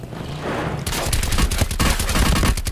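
Gunfire from Call of Duty Blackout breaks out after a quieter opening as a loud, rapid burst of automatic shots rattling close by.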